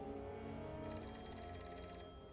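A telephone bell rings continuously, bright and insistent, with a steady ring tone underneath; no talking.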